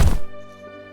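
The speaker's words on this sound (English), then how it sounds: "There was a thudding of the ground" A single heavy thud against the ground, loud at the onset and then fading into a low, lingering resonance, with no voices.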